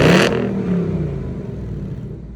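A Ford Mustang GT with active exhaust in normal mode gives a loud rev that peaks at the start, then settles into a steady, rumbling idle alone.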